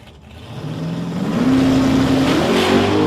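A drag racing car launches and accelerates down the strip at a test-and-tune event, its engine note swelling loud and steady as the pitch climbs over about three seconds, with no talk.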